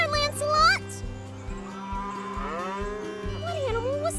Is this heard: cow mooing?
yes